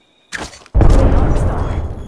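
An Arcstar grenade in Apex Legends goes off after a short electric crackle, bursting into a loud, close boom that rolls into a sustained rumbling roar.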